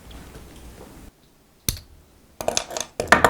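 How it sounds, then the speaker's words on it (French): Tungsten carbide cutting wheel scoring glass for a traditional stained-glass window, a few sharp close crackling scrapes and clicks in short bursts after a quiet pause. "faire notre découpe à l'aide d'une molette au carbure de tungstène"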